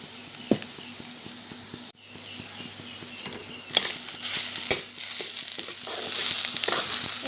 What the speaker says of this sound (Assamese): এইখিনি এতিয়া কেঁচা গোন্ধ যোৱালৈকে ভাজি থাকিব লাগিব।